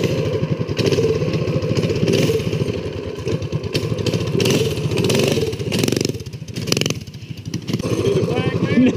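Jeep engine idling and revving while reversing outdoors, a loud rough rumble with surges and dips, with people talking over it.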